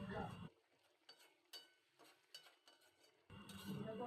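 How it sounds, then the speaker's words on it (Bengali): A spatula (khunti) stirs brinjal chorchori with tengra and puti fish in a pan, making a few separate scraping strokes and light clinks. Louder bursts of noise come before and after the stirring. "এখন একটু খুন্তি দিয়ে নাড়িয়ে দেব।"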